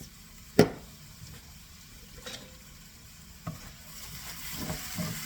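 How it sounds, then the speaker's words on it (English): Tomato paste being stirred into beef stroganoff in a pan over a low flame, with soft sizzling and a few scattered spoon scrapes and knocks, one sharp clatter near the start. "Stir this."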